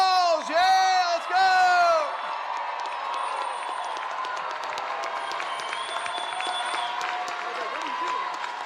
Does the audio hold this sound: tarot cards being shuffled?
no